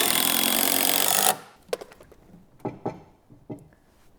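A power tool drives a screw into wood while building a double-stacked farm implement storage rack: one loud, steady whir lasting over a second, then stopping, followed by a few scattered knocks and taps nearby.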